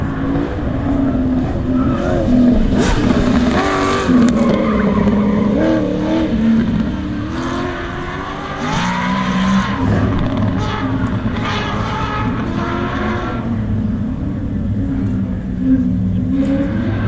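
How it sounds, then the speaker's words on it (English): Cars, including a Camaro and an Impala, run an autocross course at Kentucky Speedway during the Hot Rod Power Tour, with engines revving hard and tires squealing and skidding in repeated loud bursts. "Try to watch some of the autocross here."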